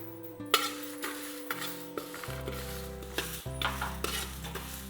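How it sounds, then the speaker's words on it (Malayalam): Urad dal and toor dal dry-roast in a pan for homemade sambar powder, with repeated clinking stirs and scrapes of a metal spoon over a faint crackle and a steady humming tone underneath. "അതിനകത്തോട്ട് നമ്മുടെ തുമരപ്പരിപ്പ് ഇട്ട് കൊടുക്കാം"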